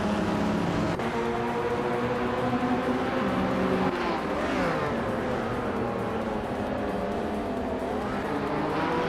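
Video game race cars overtaking on a track, a continuous blend of roaring engines rising and falling in pitch as cars pass and jostle, with occasional tire squeal.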